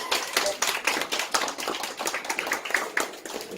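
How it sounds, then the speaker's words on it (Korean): A small audience at a book talk for a mystery novel in a café claps to welcome the author, a brief burst of quick, close hand claps. "박수로 맞아주시기 바랍니다"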